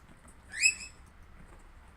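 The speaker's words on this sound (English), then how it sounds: "And that's my bird Cece" A pet bird gives a single short, bright chirp, close and clear, against a quiet indoor background, with no voices.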